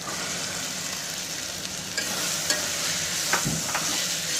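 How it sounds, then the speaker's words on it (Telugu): Chopped onion and green chilli pieces sizzle steadily in a pan, a close, even frying hiss with a few faint stirring scrapes. "ఇవి కొంచెం ఫ్రై అయ్యేంత వరకు ఆగాలి."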